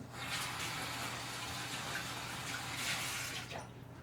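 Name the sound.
rinsing gloved hands in water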